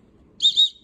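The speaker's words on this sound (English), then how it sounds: "It's got a whistle." A whistle built into a Bear Grylls Ultimate survival knife gives two quick, shrill, high-pitched blasts back to back, loud and close, with no talking around it.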